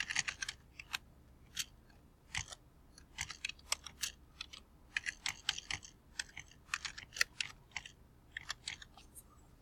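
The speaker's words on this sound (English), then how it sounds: "I'm going to type in my last name" Quiet, irregular keystrokes on a computer keyboard come in short bursts of clicks with brief pauses, close and soft, with no voices.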